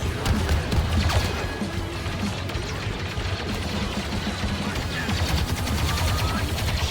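Dense gunfire and blaster shots from a Star Wars Battlefront 2 match, loud and continuous throughout, with repeated bursts, impacts and crashes layered over a constant busy battle din.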